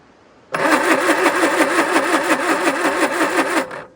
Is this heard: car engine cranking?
yes